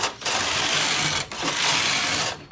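A domestic knitting machine carriage, set to tuck stitch, sweeps loudly across the needle bed in two quick back-and-forth passes, each a dense whirring clatter split by a brief pause.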